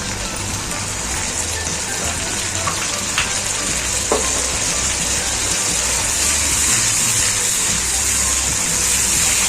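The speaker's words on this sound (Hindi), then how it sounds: "लहसुन, जीरा और प्याज की हम अच्छे से भुनाई कर रहे हैं।" Minced garlic, cumin and onion fry in a pan for a ridge gourd and egg curry, giving a steady, close sizzling hiss throughout with a few faint utensil clicks.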